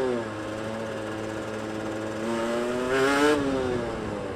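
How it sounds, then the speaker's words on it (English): A fuel-injected four-stroke hire motorcycle idles and revs gently, a steady buzzing hum that swells briefly partway through and then settles again, heard close with no talk over it. "I've got this fucking horrible fuel-injected 4-stroke thing I've got to ride."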